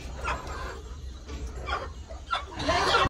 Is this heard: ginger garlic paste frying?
no